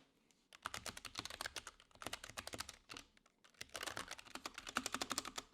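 Someone types on a Logitech G915 tactile wireless keyboard with an aluminium top plate, producing quick clustered key clicks in bursts separated by short pauses, close and fairly quiet, with no talking.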